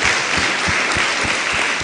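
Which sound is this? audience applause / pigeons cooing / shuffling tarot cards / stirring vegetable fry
audience applause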